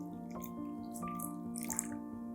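Warm water poured for activating yeast while making Lucknowi sheermal dough, a brief, quiet trickle and dripping heard up close.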